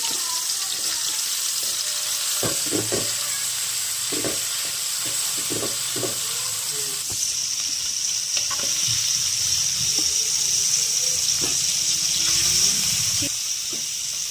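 Cabbage pieces frying in oil for Gobi Manchurian, a steady broadband sizzle running throughout with occasional clinks and stirring bumps, close and fairly loud, no voices.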